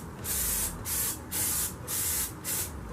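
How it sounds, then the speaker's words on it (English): Rubberized undercoating from Harbor Freight sprayed from an aerosol can onto the bed of a 1965 Jeep CJ5, five loud, steady hissing bursts of about half a second each, with short pauses between them. "let's start spraying this rubberized undercoating"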